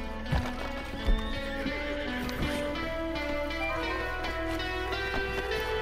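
A horse in a video game neighing loudly and close, with sharp hoof clip-clops at the start over a steady tonal backdrop of game music and ambience, no talk.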